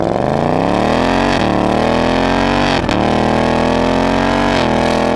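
A 2018 Ford Mustang GT with a V8 and a 10-speed automatic accelerates hard through its quad exhaust. The loud, close engine note rises steadily through several gears with brief dips at each shift, and no voices.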